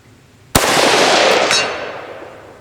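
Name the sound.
sniper rifle shot hitting a red steel plate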